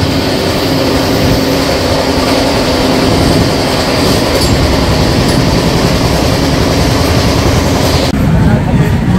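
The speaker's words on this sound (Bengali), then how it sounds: "এখন ট্রেন কত স্পিডে চলছে সেটা দেখো।" The 12664 Howrah SF Express runs at speed on the stretch past Brahmapur into Odisha, heard from a 2AC coach as a loud, continuous rumble with a rhythmic wheel clatter and a brief squeal throughout.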